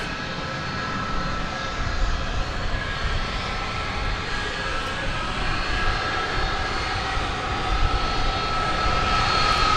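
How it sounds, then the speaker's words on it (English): An Airbus A300 freighter jet at DFW Airport roars steadily as it prepares for takeoff, a loud continuous broadband engine rumble heard from the spotting area at night, with no speech. "It's an Airbus A300 freighter, just about getting ready to take off to Chicago Rockford International Airport."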